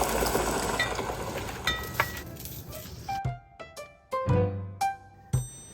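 Egg-coated shiitake mushroom slices going into an oiled pan one at a time for Korean jeon: a steady sizzle at first, then quiet stretches broken by several sharp clinks and taps of utensils against the pan.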